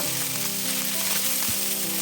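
Steady, close sizzling of carrots and mushrooms frying in a hot pan, a continuous crackle with no voices.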